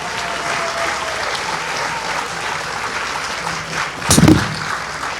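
An audience at a Chinmaya annual day program applauds steadily, and a sharper, louder burst of noise flares up near the end amid the continuous clapping.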